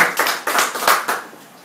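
A few people clapping briefly at a book event in Italy, a handful of sharp irregular claps close by that fade out within about a second and a half.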